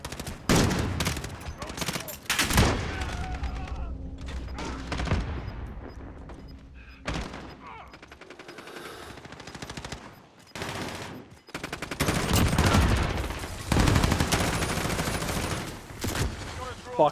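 Bursts of automatic and single gunfire in Call of Duty: Modern Warfare (2019) split-screen play, loud volleys early and late with quieter gaps and scattered shots between, game effects mixed in.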